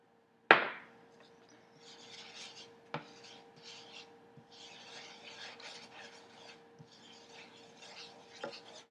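Flour being stirred into melted butter in a pot for a beef pot roast: a steady soft scraping and rasping of a utensil against the pot, quiet and continuous, with a sharp clank at the start and a few faint taps.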